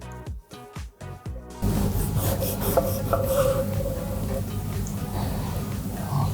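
A knife slicing through a previously filleted fish, a steady rasping, rubbing stroke sound following a few brief knocks at the start, close and moderately loud.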